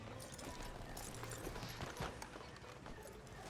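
Horse hooves clip-clop at a steady walking rhythm in Red Dead Redemption 2, heard amid busy game ambience and low background noise, moderately near and fairly quiet.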